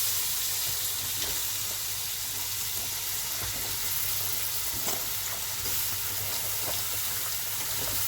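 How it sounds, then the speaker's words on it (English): Washed cabbage dropped into hot oil in a chicken and cabbage curry pan, a steady bright sizzle crackling evenly throughout with a few small pops. "Now we are ready to add the cabbage."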